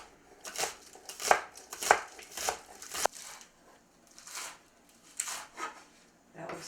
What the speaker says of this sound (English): slice 2 bunches of scallions to go in